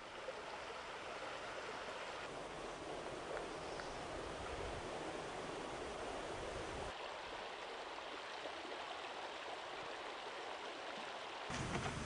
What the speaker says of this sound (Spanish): el río, reducidas sus aguas por el estiaje y los riegos, se remansa entre los cantos rodados de su lecho